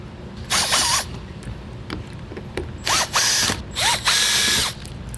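A power driver spins out T30 Torx screws from the underbody panel of a 2022 Ford Maverick in several short, loud whirring bursts with rising and falling pitch, separated by brief pauses and light clicks.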